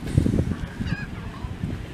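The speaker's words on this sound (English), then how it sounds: "just look how many birds" Seabirds calling at the Ocean City, Maryland boardwalk, a steady run of loud honking, squawking cries close by that overlap one another, with a faint whistle-like call partway through.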